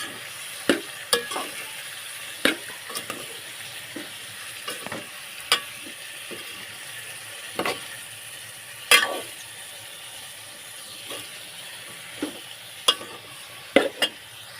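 Cowpea pods are stir-fried in a pan over lowered gas, giving a soft continuous sizzle broken by sharp, irregular clinks and scrapes of the spatula turning them every second or so.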